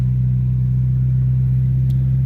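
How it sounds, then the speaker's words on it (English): Car engine idling after a Sea Foam treatment for sticky valves, a loud, steady low rumble with an even, unbroken throb heard up close and alone. "See? Sticky valves. Now she's idling just fine."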